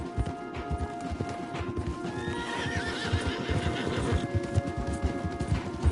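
Horses gallop with steady rapid hoofbeats, and a whinny rises partway through, loud and close within the soundscape of the video game Red Dead Redemption 2.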